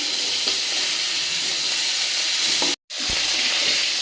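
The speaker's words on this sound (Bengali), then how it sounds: "মাছগুলো আমার ভাজা হয়ে গেছে সুন্দর করে" Fish frying in a pan in a home kitchen gives a steady, close, dense sizzle that holds continuously, broken once by a brief moment of silence before the crackling resumes.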